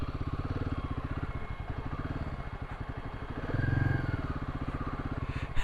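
Steady low Royal Enfield Himalayan 450 motorcycle engine drone with a pulsing, ticking rhythm, swelling slightly near the end before a sharp knock closes it out.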